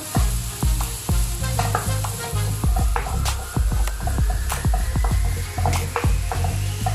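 Onion sautés in a pan for lechon paksiw with a constant sizzle, while sharp metallic scrapes and clanks of the utensil against the pan come in a quick, uneven rhythm. The sound is near and has no speech.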